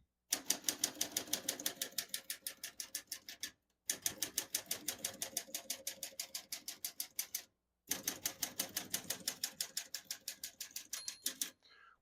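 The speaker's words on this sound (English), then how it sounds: "Once you hear the bell, you're near the end of the margin." Rapid, even clacking of a 1946 Smith-Corona Clipper portable manual typewriter in three bursts separated by short pauses, close and crisp, with no voices.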